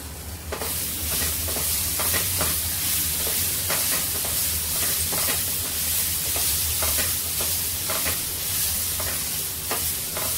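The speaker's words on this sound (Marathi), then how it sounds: "चार 5 मिरच्या घेतलेल्या आहेत, त्या भाजून काढूया." Green chillies, garlic and ginger roast in a pan with a steady close sizzle, broken by repeated scraping stirs of a spatula against the metal.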